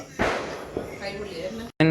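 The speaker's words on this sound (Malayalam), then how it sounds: "അവൾ അവിടെ ഇരുന്ന് പടക്കം കത്തിച്ചോണ്ടിരിക്കുകയാണ്." Firecrackers lit and bursting at a home celebration, a sharp close bang followed by a smaller pop and another burst at the end, with voices around.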